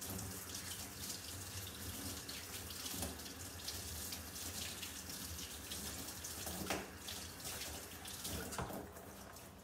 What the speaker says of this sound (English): I'm going to wash these out underneath my sink